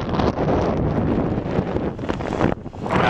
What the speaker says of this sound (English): you probably can't hear me because it's windy as hell